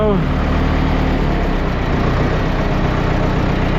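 A tractor engine idles steadily and loudly at low throttle, a low continuous rumble with a brief whine fading at the start.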